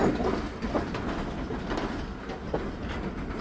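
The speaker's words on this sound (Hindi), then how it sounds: "चमट रेलवे स्टेशन अप्रोच कर रही है ट्रेन।" A train rolls steadily toward Chamat railway station, a continuous rumbling wheel-on-rail noise with faint clickety-clack, heard close and fairly quiet with no talking.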